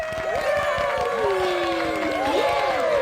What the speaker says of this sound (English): The Smurfs cheer, raising their cups of punch in a toast